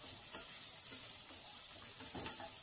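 Garlic and onion fry in olive oil with a soft, steady hiss and crackle, while faint stirring scrapes come and go close by, no voices.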